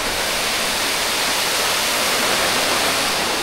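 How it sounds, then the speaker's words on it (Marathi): A waterfall roars steadily, a dense, unbroken rush of falling water filling the whole clip with no other sounds. "तर एवढा सुंदर धबधबा"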